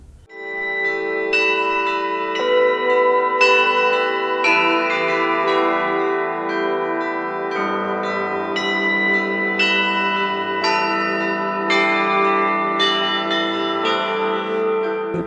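Church bells in Minas Gerais ringing in a steady clangour, several bells struck repeatedly in overlapping rhythmic peals with long resonant decays, loud and without voices.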